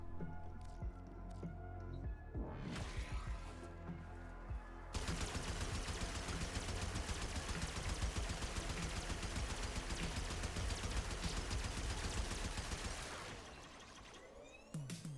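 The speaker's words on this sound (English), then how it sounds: "complete mag dump of the Foreman there got it to 54 heat procs" Firing a full magazine from the Foreman gun in the video game Warframe, a 60-shot weapon, produces a long, dense burst of rapid shots that starts abruptly after a few quieter sounds and runs for about eight seconds before cutting off.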